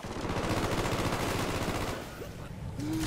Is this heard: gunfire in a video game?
yes